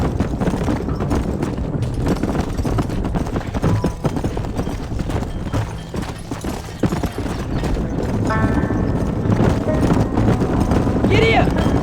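Galloping horse hooves from Red Dead Redemption beat a fast, continuous clip-clop under steady wind and ambient game noise, with a voice urging the horse on over the top.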